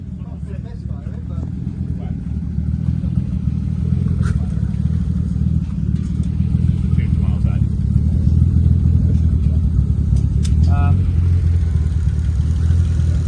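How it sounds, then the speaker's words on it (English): A tuned R33 Skyline with a forged engine rumbles and revs nearby, a continuous engine drone with people talking over it throughout. "Noisy cars."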